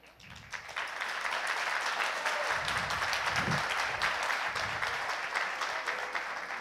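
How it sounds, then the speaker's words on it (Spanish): Audience applause at a political debate swells quickly after a soft start and holds as a dense, steady wash of clapping, heard from within the hall. "Me parece que ese aplauso es sintomático de lo que está pasando en la sociedad"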